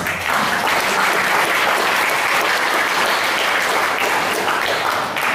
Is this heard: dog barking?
no